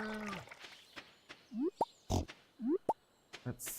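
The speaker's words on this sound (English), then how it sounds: "even though the pigs are disgruntled" Pigs in the video game Stardew Valley give several short grunts and oinks spaced through a quiet scene, mixed with soft plopping game effects and a brief voice at the start.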